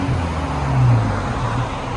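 Low, steady idle drone from a 2012 Audi A4 with a 2.0L turbo engine and resonator-delete exhaust, a deep rumble that swells briefly midway and stays fairly constant over two seconds.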